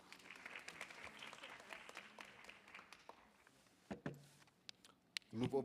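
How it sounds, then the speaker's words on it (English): An audience at an inter-municipality debate claps in a dense burst that tapers off after a few seconds, followed by scattered knocks and shuffling sounds. "Let's give them a round of applause."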